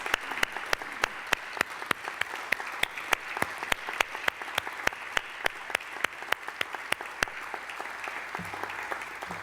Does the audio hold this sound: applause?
yes